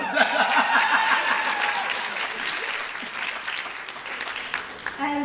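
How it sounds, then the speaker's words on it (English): An audience gives a steady round of applause that gradually fades, with a voice speaking over the start. "Come on, y'all clap it up."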